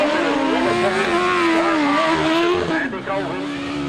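Grasstrack sidecar racing outfits roar past at speed on a last lap, with a loud, sustained engine whine that shifts in pitch as they pass, while an announcer talks over it.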